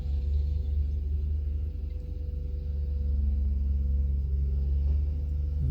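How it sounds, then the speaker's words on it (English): A skid steer loader picks up scrap metal at a scrap yard, its engine producing a steady, loud low rumble and drone that continues without break throughout. "So the skid steer man's picking up the stuff and filling the tubs."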